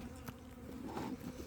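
Honey bees buzzing inside a queenless hive during an inspection, a soft continuous drone of many wings close by, faint and steady with no talking.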